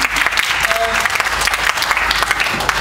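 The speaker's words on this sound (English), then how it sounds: "I just give them a round of applause for that kind of comment." Round of applause from a talent show audience, steady dense clapping close by for a few seconds.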